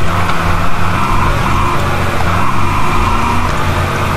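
Car driving in GTA San Andreas on a roleplay server, a loud continuous engine drone with road noise and slight tire scrubbing, steady for a few seconds with no voices.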